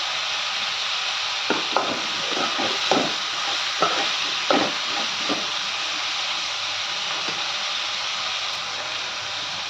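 Onion pieces and drumstick pods frying in a pan for a dry fish curry, a steady loud sizzle with repeated scraping stir strokes clustered through the middle, no talking.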